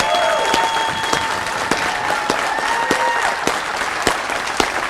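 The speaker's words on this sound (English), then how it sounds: "Let us give her a big applause." An audience at a speech event in Texas breaks into steady, crowded applause, with many hands clapping close by and a few sharper individual claps standing out throughout.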